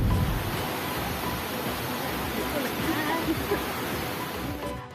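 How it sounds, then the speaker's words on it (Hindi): Floodwater surges through the Dhangarhi stream in Ramnagar after heavy rain, a steady, dense roar of rushing water that runs unbroken and loud from start to finish. "रामनगर के इस धनगढ़ी नाले में देखिए पानी कैसे डरा रहा है।"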